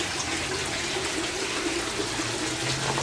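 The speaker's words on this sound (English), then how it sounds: "so this whole flush system runs about every 10 minutes." Loud, continuous gush of water draining through a barrel aquaponics flush system, a dense steady rush up close, like a flushing toilet, with no voices.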